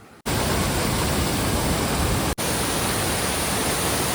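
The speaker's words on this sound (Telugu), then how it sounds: "కొండ మీద రాయి మీద నీళ్ళు పోయి వెళ్ళిపోతుంది" A Cherrapunji waterfall pours over rocks down a hillside in a dense, unbroken roar of rushing water, close and loud, interrupted by one brief cut.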